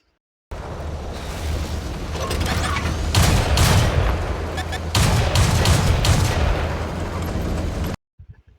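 Rapid tank cannon and gunfire bursts from World of Tanks on console, loud and dense, running almost continuously with heavier blasts in the middle before cutting off abruptly.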